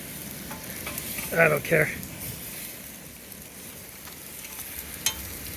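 Ribeye steak searing in a DIY perlite wood-fired pizza oven gives a steady, soft sizzle and crackle at low level throughout, with a short spoken phrase near the start and a sharp tap near the end.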